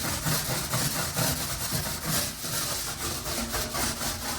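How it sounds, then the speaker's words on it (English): A Norwex cleaning cloth scrubs at a spot in a bathroom, rubbing back and forth in repeated strokes close by. The rhythm swells and fades with each pass. "Gently rub, and look, instantly it's starting to come off."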